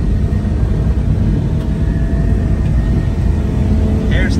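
Suzuki Carry mini truck engine droning steadily while driving down a country road and shifting into third gear, a loud continuous low rumble from inside the cab with a faint rise in pitch near the end.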